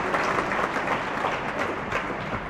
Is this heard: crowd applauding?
yes